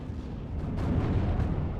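Mortar fire in the World War II strategy game Steel Division: Normandy 44, a deep rumbling boom that swells and rolls on for the whole short stretch, heavy and low without any talk.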